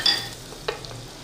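A spoonful of garlic frying in a pan for masala tikka handi, a soft sizzle with a couple of light stirring scrapes and taps, close up and brief.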